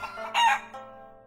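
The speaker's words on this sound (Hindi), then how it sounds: "हैट में से निकला एक मुर्गा।" A rooster pulled from a magician's hat crows once, a loud drawn-out call that swells and then trails off, heard alone without speech.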